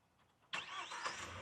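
A Kia Seltos GTX+ petrol automatic starts remotely: quiet background, then a sudden brief crank that catches into a steady idle, heard from nearby outside the car.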